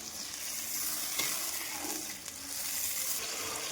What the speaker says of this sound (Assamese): অকণমান পানী দিম, পানী দি কিনে আমি অকণমান লৰাই দিম।